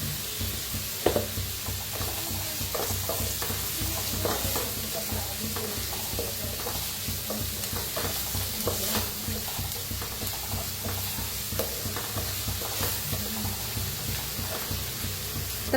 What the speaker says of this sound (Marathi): तर कांदा बघा छान असा भाजलेला आहे।